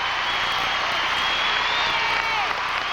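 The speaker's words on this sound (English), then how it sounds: "Hear the audience on their feet." A figure-skating audience at an ice show stands and cheers, a dense, steady wash of applause and crowd roar filling the arena without a break.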